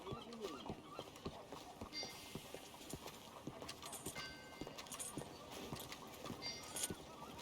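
Steady clip-clop of horse hooves at a walking pace in the video game Red Dead Redemption 2, fairly quiet, with a faint snort and light ambient noise.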